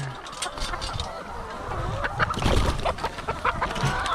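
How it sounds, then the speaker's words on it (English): Several free-range hens cluck and chatter close by in a doorway in short, irregular bursts, with soft background noise and no clear speech. "the chickens are parked here in the doorway"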